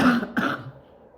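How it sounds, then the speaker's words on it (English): A person recovering at home after cancer treatment gives a single hoarse, close cough with a brief throat-clearing rasp, fading quickly into quiet room tone. "I would pause during these coughs, but I don't remember how"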